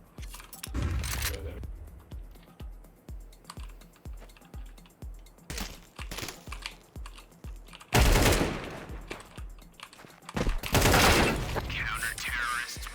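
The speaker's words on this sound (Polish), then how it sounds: "Co to za strzał jest?" Rapid rhythmic gunfire in Counter-Strike, evenly spaced shots with louder bursts later, mixed with keyboard and mouse clicks and some talking.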